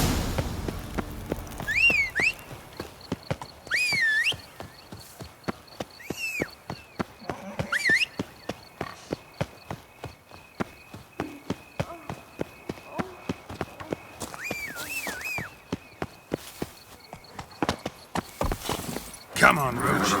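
Roach, Geralt's horse in The Witcher 3: Blood and Wine, trots with a steady run of clip-clop hoofbeats, and a few short whinnies rise above them while someone talks over it at moderate loudness.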